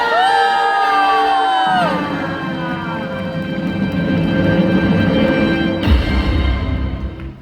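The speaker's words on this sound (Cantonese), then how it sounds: "俾啲掌聲你哋自己有冇啊？" A Hong Kong fan-concert crowd of fans screams and cheers loudly, shrill whoops rising over a sustained roar of the packed audience, with a swell of noise near the end.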